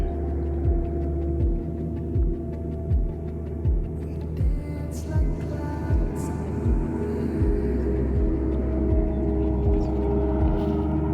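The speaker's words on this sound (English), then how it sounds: "I hear a really powerful boat this way." A powerful motorboat runs on a shallow lake beside an RV campground, a steady low engine hum and throb with rhythmic hull slaps, moderately near and sustained without talk.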